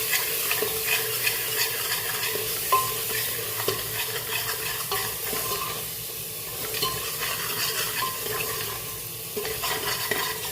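Spices and red chili powder sizzle in hot oil for a tadka for potato pakora curry, a steady close fry with scraping stirs throughout.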